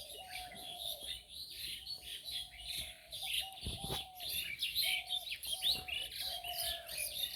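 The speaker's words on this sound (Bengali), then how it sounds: "সকালবেলা পাখির কিচিরমিচির" Small birds chirping and twittering around a mango tree on a misty early morning by a new house, busy overlapping calls throughout, with a recurring steady mid-pitched call and occasional sharp knocks underneath.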